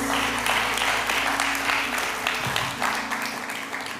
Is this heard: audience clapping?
yes